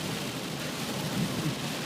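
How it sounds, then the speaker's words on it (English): A thunderstorm: rain hisses steadily, with a low rumble of thunder swelling beneath it, moderately loud and continuous, with no voices. "The storm is pretty insane."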